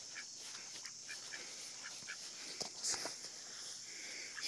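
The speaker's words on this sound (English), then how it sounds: "It's an attack duck, Flash." A duck quacks faintly in the distance while chasing a dog outdoors near chickens, a few soft honking calls scattered over background hiss.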